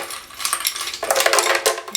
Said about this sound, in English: And then we're going to put in some ice.